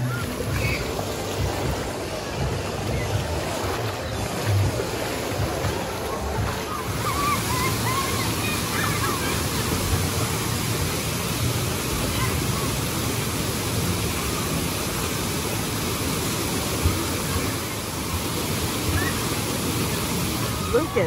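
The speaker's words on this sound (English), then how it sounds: "Floating down the lazy river." Water flows and sloshes steadily around a tube floating down a lazy river at a Wild Adventures water park, a broad constant rush with faint voices now and then.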